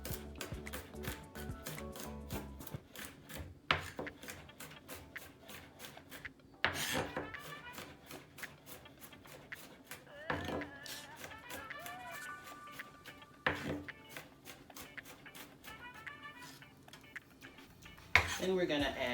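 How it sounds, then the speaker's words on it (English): A knife rough-chopping garlic on a cutting board, with rapid, irregular series of sharp taps and scattered louder knocks over soft background music. "next we're going to cut our garlic. Gonna give it a rough chop to start off with."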